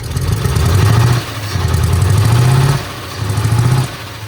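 A motorcycle engine runs after repair and revs up in three close, loud bursts, each rising briefly before dropping back, with a rough, clattery idle between the revs.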